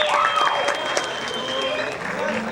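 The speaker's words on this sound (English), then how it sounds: "Please give him another round of applause" Audience applause following a solo at a high school symphonic band spring concert, a steady dense wash of clapping that holds for a couple of seconds with a few mixed-in voices.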